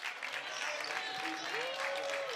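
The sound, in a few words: fans applauding at boys basketball game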